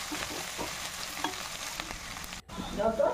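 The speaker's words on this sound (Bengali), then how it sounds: "এবার দিয়ে ভালো করে নেড়ে নেব যতদিন না কাঁচা রসুনের গন্ধটা যাচ্ছে" Ginger garlic paste sizzles and fries in a pan while being stirred, giving a steady close crackle with scraping strokes and a brief break near the end.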